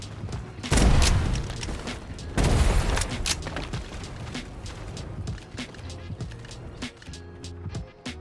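Mines are blown apart in a FragPunk match as two heavy booms hit early, followed by a steady clatter of smaller blasts and gunfire that keep going at lower strength, with no voices.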